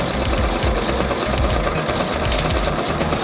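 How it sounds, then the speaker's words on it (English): A sewing machine stitches gloves together, its needle chattering in a fast, steady mechanical rhythm, loud and close for the whole stretch without talk. "Right, let's try and sew these gloves together."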